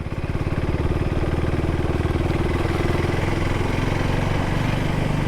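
A Husqvarna Svartpilen 401 motorcycle engine runs close and loud with a steady throbbing single-cylinder pulse as the bike sets off, with no talking.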